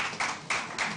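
Audience at a business workshop clapping, a brief burst of several distinct claps in quick rhythm, moderately loud and close-sounding.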